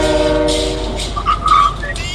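Train moving in Fortnite Chapter 5 Season 1, a steady rumbling ride with a sustained horn-like tone early on and brighter metallic squeals midway, heard close and loud with faint game voices underneath.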